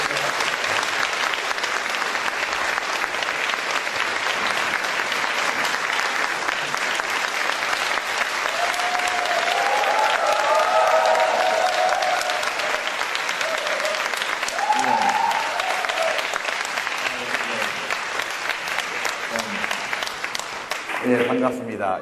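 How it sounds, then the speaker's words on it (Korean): A large audience at a Sydney lecture on Korea's welfare-state future claps loudly and continuously to welcome the lecturer, a sustained dense roar that eases slightly near the end as talking begins. "큰 박수와 함께 부탁드리겠습니다"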